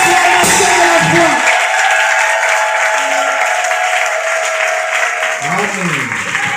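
A church congregation applauding and cheering for Jesus at a Sunday service: loud, dense, continuous clapping and voices filling the whole stretch, with a voice rising over the crowd near the start and end.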